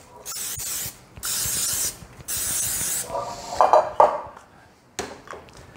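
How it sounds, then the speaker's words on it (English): Several hissing bursts of cooking spray into a metal muffin tin, each about a second long with short pauses between, close by, followed by light clinks of the pan. "I'm going to spray these really generously"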